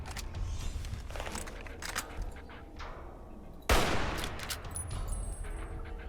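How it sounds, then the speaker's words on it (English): Hunting rifle gunfire in the video game Fallout New Vegas: a single sharp, loud shot cracks out midway through the clip over continuous game ambience and scattered clatter, then rings off with a short tail. "let's switch to a longer range weapon. Let's go for the hunting rifle."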